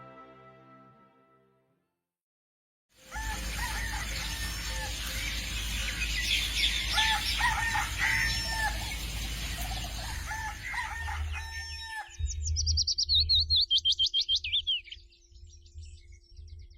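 Chickens call loudly after a brief quiet start, with crowing and clucking over a steady background hum, then quieter, sharper chirps near the end.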